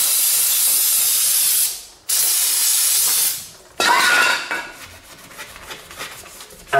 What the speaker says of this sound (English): I generally spray the whole backing plate with some brake clean and give it a good wiping